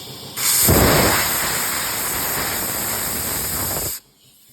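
Compressed air blasting corrosion off a car starter: a loud, steady, close rushing hiss that starts abruptly, holds for about three seconds, then cuts off.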